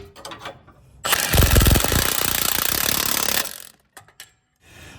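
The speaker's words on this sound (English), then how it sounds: "I'll be using an 18mm wrench and an 18mm socket to secure this bolt in place." Power tool driving an 18mm socket onto a bolt on a Jeep Wrangler control arm drop bracket: a loud, continuous rattling burst of about two and a half seconds, then a few short taps and quiet.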